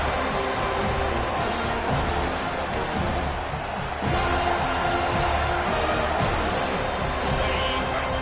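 A home crowd at a college football game against the Gators roars in a steady, dense wall of cheering as the defense tries for a third-down stop, with a commentator talking over it.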